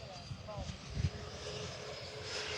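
An FMS F-18 radio-controlled jet with a 70mm electric ducted fan flies overhead, producing a steady, fairly faint whine and rush, with a person talking over it.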